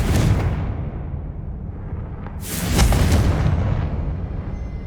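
A Confringo blasting curse goes off in Hogwarts Legacy, a low rumbling explosion with a sharp burst midway, then a fading roar.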